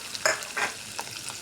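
Green and red chillies, curry leaves, chopped onion and garlic sautéing in a pan, with a few quick scraping stirs over a light sizzle, close and fairly quiet.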